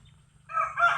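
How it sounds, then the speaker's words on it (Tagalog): A rooster in a rice field crows loudly and close by, a single drawn-out call rising over a low steady hum, with quieter background noise before it. "Mga manok yan."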